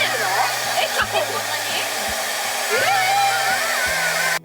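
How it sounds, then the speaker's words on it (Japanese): A hair dryer runs loud and close throughout, a steady whooshing roar that stops abruptly at the end, with brief voices faintly underneath. "ドライヤーをね使っていきたいと思います"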